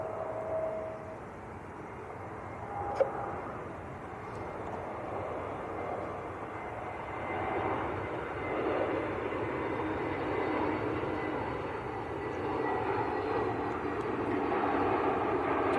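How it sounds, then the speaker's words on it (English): An EasyJet Airbus A321neo arriving from Nice lands at Manchester Airport, giving a steady broad engine roar that swells slightly and holds on throughout, with a brief sharp click near the start and no voices. "That's EasyJet from Nice. That's an A321neo."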